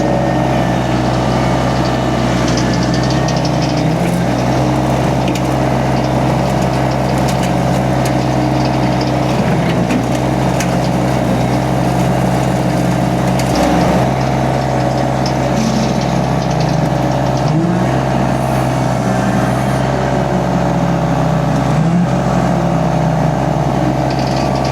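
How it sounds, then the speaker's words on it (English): A Derette brush cutter mounted on an XC1100 machine spinning steadily, a loud continuous droning hum with a deep engine rumble that holds constant throughout, with no talk over it. "Now I'm gonna jump on the Derette brush cutter on the XC1100 and let's see the difference."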